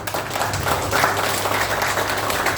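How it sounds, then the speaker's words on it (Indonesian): Crowd applause at a volunteer team declaration rally for a three-term council candidate, a steady dense wash of clapping lasting the whole stretch with a low hum underneath and no clear talk. "Tepuk tangan untuk beliau."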